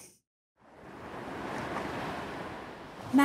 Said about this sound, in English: The sea!